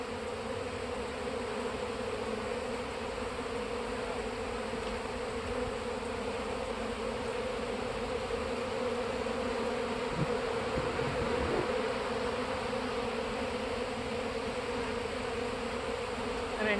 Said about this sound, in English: It's always cool to be around bees when they're out.